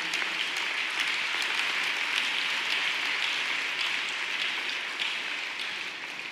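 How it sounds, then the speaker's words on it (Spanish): Church audience applauding throughout a worship service, a steady dense wash of many hands clapping at moderate volume that fades slightly toward the end, with no speech over it. "Un aplauso para nuestro Dios."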